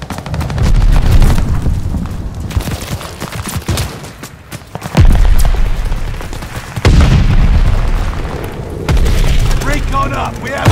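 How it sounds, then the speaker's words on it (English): Mortar barrage in Call of Duty: Vanguard team deathmatch, heavy repeated booms and blasts rolling over continuous gunfire, loud and close, with talk heard over the combat. "Allies calling a mortar barrage."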